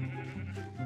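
Minecraft sheep bleating during a Mineplex game, a short sustained bleat that swells again near the end, loud and close with no talk over it.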